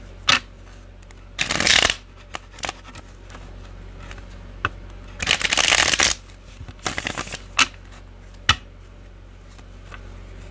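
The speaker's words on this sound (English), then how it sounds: "Last shuffle." Tarot cards are riffle-shuffled in two loud fluttering bursts, with lighter taps and card snaps scattered between them, close up and without speech.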